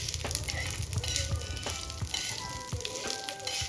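Whole spices fry in oil over a low flame for a chicken masala gravy, a continuous close sizzle broken by repeated taps and scrapes of stirring.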